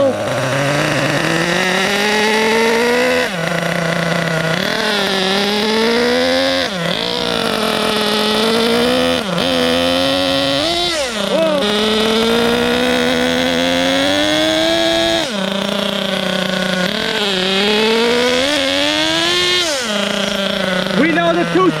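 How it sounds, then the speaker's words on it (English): A vintage Yokomo GT4 1/10 nitro on-road RC car engine buzzes steadily at a low idle, a reedy drone with slight pitch wobbles, running close and continuous while a person talks over it. "The motor is idling fantastic."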